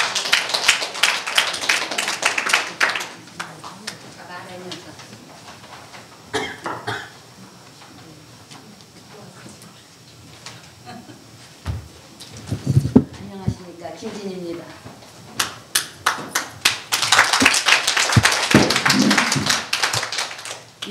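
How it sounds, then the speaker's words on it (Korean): An audience at a women's association unification lecture claps to welcome a guest speaker. Scattered claps and taps open the clip, a voice talks and someone coughs in the middle, and fuller clapping returns toward the end. "나오실 때 큰 박수로 환영해 주시기 바랍니다"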